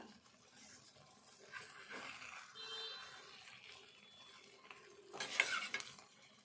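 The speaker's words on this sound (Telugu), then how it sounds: "కొత్తిమీర కూడా వేసుకొని కొద్దిసేపు కలుపుకుందాము." A spoon stirs egg curry in a pan after coriander leaves go in, giving soft scraping and a gentle sizzle with a louder metallic scrape near the end and no voices.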